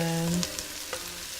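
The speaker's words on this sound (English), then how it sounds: "these onions have been cooking for about 2 to 3 minutes" Onions sizzle in a pan in a steady, close frying hiss, with a few light clinks of stirring and a short voice-like tone at the very start.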